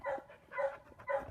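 A dog barks three times in a quick rhythm, close by and moderately loud, while training a reactive dog indoors.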